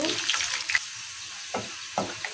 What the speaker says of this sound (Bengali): রসুন রসুনটা আমি একটু ভালো করে ভেজে নিব